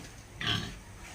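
A single short grunt from a pig on a backyard farm sounds during deworming, fairly close against a low hiss, lasting under half a second with no talk over it.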